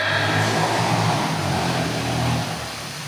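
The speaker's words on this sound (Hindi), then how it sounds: "ये साइलेंसर बज रहा है" A vehicle's exhaust silencer roars loudly near a Hindi comic poetry gathering, a heavy, continuous engine drone that holds strong for over two seconds before easing slightly lower.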